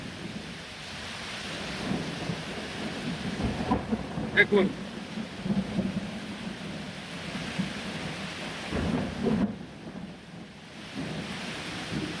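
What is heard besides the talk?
thunderstorm with heavy rain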